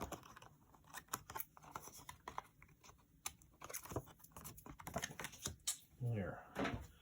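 Paper craft postcard trimmed with a run of quick, crisp snips and ticks, close and fairly quiet, followed near the end by a brief spoken voice.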